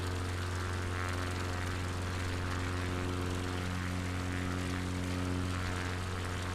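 Propeller aircraft engine droning steadily in a flight simulator game during a bush flight over Patagonia, a loud continuous drone with a constant tone throughout.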